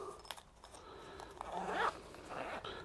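A zipper on a multimeter carrying case is pulled open, a few short scratchy runs of the zip up close at a quiet level with light handling rustle and no talking.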